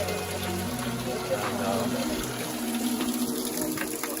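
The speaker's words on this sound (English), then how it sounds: "this is more of an Incan waterway, whole water system underneath" Water flowing steadily through a stone Incan waterway at Machu Picchu, a continuous close splashing rush heard under a voice.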